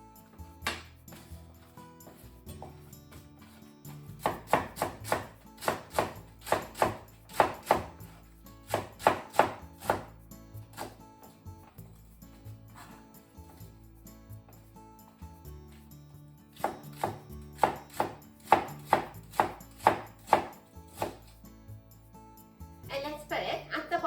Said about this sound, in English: let's cut the bottom half into thin diagonal slices